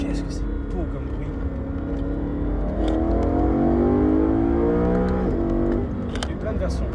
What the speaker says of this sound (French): quand ça rétrograde, qu'est-ce que c'est beau comme bruit